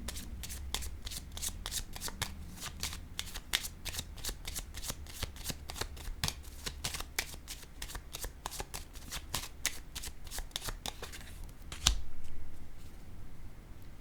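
Tarot cards handled and laid down, a long run of quick, crisp riffling flicks and slaps at close range, ending in one louder snap and a brief rustle.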